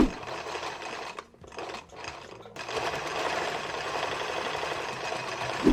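A sewing machine runs steadily, stitching a 3D cargo pocket onto a utility vest, a close, rapid mechanical chatter that pauses briefly for a couple of short gaps before resuming for a longer continuous run.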